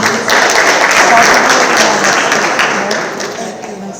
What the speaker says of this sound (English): everybody please give them a round of applause and welcome them